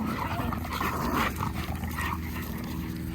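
Dogs playing together make close, loud, rough growls and muffled yips over a continuous scuffling din.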